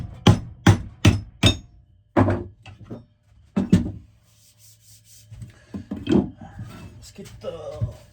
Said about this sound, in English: Let's get the sander up here. Got the Harbor Freight sander.